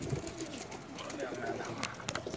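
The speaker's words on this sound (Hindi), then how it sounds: "ये वाला कबूतर था ये।" A pigeon coos in soft, low repeated phrases up close, with other birds and faint background noise around it and a couple of sharp clicks near the end.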